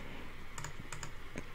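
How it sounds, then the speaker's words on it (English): Several quick, soft keypresses tap on a computer keyboard in small clusters over a steady background hiss. "Keyboard."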